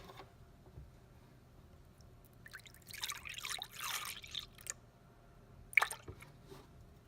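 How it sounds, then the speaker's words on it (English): Almond milk is poured into a blender for a green smoothie, giving a soft liquid splash and trickle lasting a couple of seconds, then a brief final splash, quiet and close. "first I'm gonna add 1 cup of almond milk"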